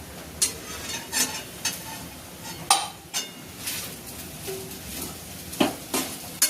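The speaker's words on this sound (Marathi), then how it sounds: "शेंगदाण्याचं कूट टाकते आता." Crushed peanuts go into khichdi in a pan while it is stirred: rhythmic scraping and clinking spoon strokes over a low sizzle, each stroke sharp and close.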